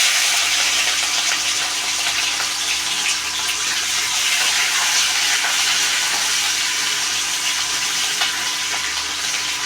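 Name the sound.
green chilies frying in a pan with urad dal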